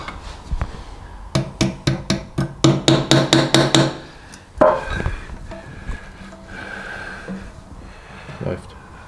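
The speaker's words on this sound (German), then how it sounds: "So, Hammer." A rapid run of hammer blows, about a dozen sharp metallic-wooden strikes in quick rhythm, driving a split pin into a Vespa PX 177cc scooter engine during a rebuild, followed by a scrape and quieter handling noises with a voice in the background.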